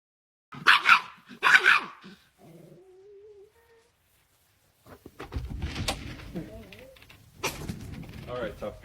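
A dog barks twice loudly up close, gives a thin whimpering whine, then growls and barks amid voices talking over it.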